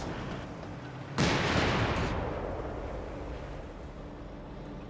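Heavy gunfire and machine-gun bursts from a Company of Heroes 3 battle burst in suddenly and loudly, a dense rattling barrage that slowly fades into a rumbling, reverberant wash.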